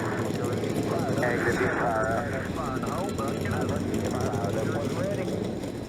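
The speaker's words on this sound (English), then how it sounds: "42 engines come to life here at Watkins Glen" Dozens of stock cars start up and idle together at Watkins Glen in NASCAR Racing 2003, a dense, steady engine roar filling the whole stretch while a commentator talks over it.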